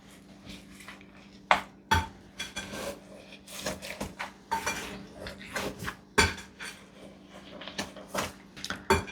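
A potato masher mashes strawberries in a pot to make jam, producing repeated close metallic clanks and soft squishy presses in an uneven rhythm, with no voices.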